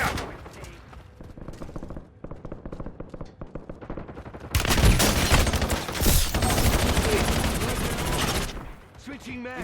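Automatic gunfire in a Warzone Resurgence match crackles in rapid bursts, first lighter and sparser, then a dense, loud stretch of sustained shooting that fades near the end.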